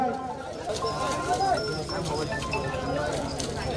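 A bullock pair running in a district-level ploughing race in Chiplun, Konkan, gives quick rhythmic hoofbeats over a steady outdoor crowd din, with voices talking throughout.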